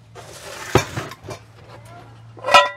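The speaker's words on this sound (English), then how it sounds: "This is the cast iron frying pan that I showed you before." A cast iron frying pan is handled in a camp chuck box, making a few scattered metallic clunks and clinks, with one sharp knock near the start and a brighter ringing clank at the end over a low steady hum.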